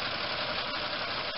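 Continuous whirring drone of radiator cooling fans kicking in over an idling, near-overheating car engine, steady and even, with a faint low rumble underneath.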